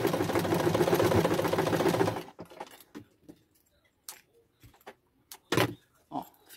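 Domestic sewing machine stitching small fabric scraps: a loud, steady mechanical whir with rapid needle chatter running for about two seconds, then stopping, followed by scattered quiet clicks and handling noises.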